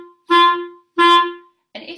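A wind instrument plays two separate tongued notes on G, each steady for about half a second with a clean attack. Both are close and clear, and a short burst of sound follows at the end.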